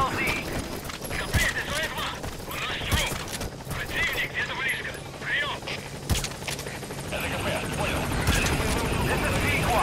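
Support helicopter in Metal Gear Solid V arriving at the landing zone, a continuous rotor drone under horse neighs and hoof clip-clops, with radio voices talking over it.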